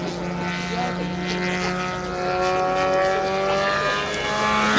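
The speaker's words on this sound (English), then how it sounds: "You can hear the uniqueness of this engine. 4 cylinders, and it just makes a beautiful sound." A four-cylinder model aircraft engine at a model aircraft show drones steadily overhead with a sustained harmonic buzz, swelling slightly as it passes over, loud and continuous without speech.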